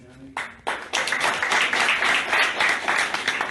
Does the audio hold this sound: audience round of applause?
yes